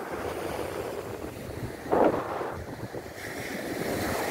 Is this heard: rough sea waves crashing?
yes